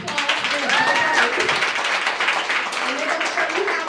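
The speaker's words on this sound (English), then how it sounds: "Now give these young people a round of applause." Audience applause for a group of young dancers at a symposium, a steady wash of many hands clapping with voices talking and calling out over it.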